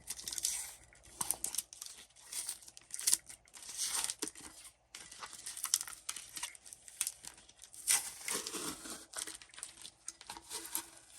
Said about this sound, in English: I can go ahead and take off the tape and the vinyl